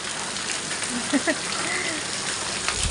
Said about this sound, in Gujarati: તો વરસાદ સારો ચાલુ થઈ ગયો